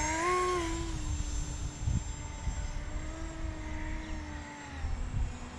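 A small homemade RC twin gyrocopter plane flies overhead, driven by a little race drone motor with a 5-inch prop on a 3-cell battery. Its steady, high electric whine drifts slowly in pitch at moderate distance, with no talking.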